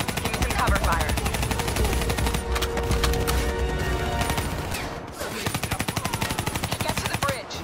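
Dense automatic gunfire from a Call of Duty Black Ops 3 firefight, rapid repeated bursts hammering almost continuously, loud and close, with a short lull midway before steady rattling shots resume.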